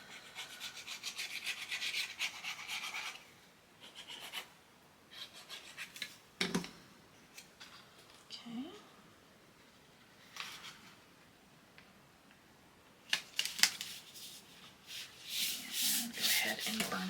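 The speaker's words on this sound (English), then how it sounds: "And burnish that one down." A folded crease in cardstock is burnished with a series of short, close, papery rubbing strokes that come in bursts with quiet gaps between them.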